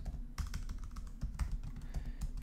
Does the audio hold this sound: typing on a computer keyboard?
yes